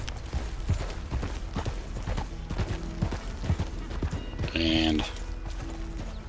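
Horse hooves clip-clopping at a riding pace in a video game with the Bandit Hideouts mod, a steady rhythmic patter running throughout, with someone talking over it and a short whinny-like burst near the end.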